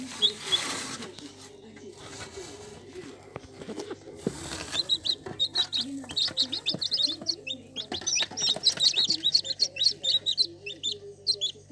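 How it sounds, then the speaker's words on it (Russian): High, rapid peeping chirps from newly hatched chicks in a homemade incubator fill most of the clip, steady and close, with some low rustling and a brief voice near the start. "Один только что вот появился."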